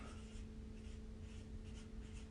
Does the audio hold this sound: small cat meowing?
no